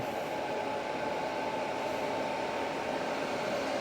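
Constant loud rush of a CyberTake S2 Pro portable air conditioner fan blowing at max speed, an even whooshing hum with no change throughout.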